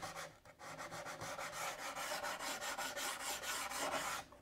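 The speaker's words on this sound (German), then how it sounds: "Kanten auch mal leicht abschleifen. Sonst wäre es zu scharfkantig." The edges of a wooden monitor shelf are sanded by hand in quick, rhythmic back-and-forth strokes, about twenty steady rasps heard close and alone before stopping.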